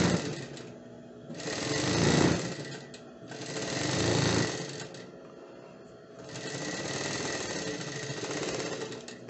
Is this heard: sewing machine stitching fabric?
yes